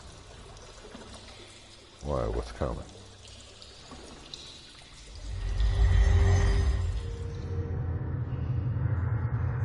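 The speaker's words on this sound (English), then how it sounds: "Slosh around ankle deep water." Ankle-deep water sloshes and splashes in the Shadowgate video game, a loud, rolling wash that swells midway and continues to the end, after a brief spoken line.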